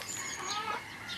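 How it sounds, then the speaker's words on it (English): A hen about to lay gives soft, low clucks as a greeting, with a steady murmur of chickens in the background throughout the short moment. "This is with a hen about to lay. So it's a sort of hello."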